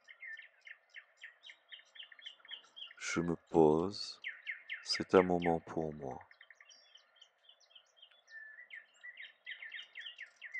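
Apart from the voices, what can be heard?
birds chirping in background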